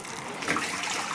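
Water rushes from an opened gate valve into a fertilizer mixing drum on a farm, a soft continuous pouring and splashing at low level.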